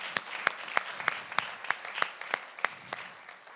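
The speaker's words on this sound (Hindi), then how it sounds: "इस पूरी टीम को एक बार जोरदार तालियों की दहाड़ भी हम लोग दें." An audience at a JITO matrimony event applauds the team, a steady wash of clapping with sharper individual claps standing out at a fairly regular pulse, moderately loud and close.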